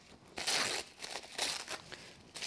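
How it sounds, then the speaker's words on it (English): Ordinary tissue paper is crumpled and torn by hand in several close, crisp bursts of crackling and ripping with brief quiet gaps between them. "Doesn't matter what size, what shape, just do a little bit of tearing."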